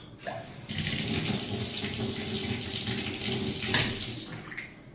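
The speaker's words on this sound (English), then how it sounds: "Run some water through it." Tap water runs steadily through a freshly soldered copper pipe fitting during a plumbing repair, a continuous close rushing flow that starts abruptly and holds for several seconds before tapering.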